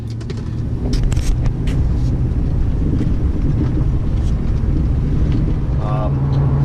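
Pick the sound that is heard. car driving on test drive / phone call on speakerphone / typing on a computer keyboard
car driving on test drive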